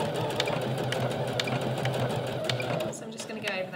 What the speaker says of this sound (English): And then secure this in place again with a row of straight stitches just across the width of the elastic.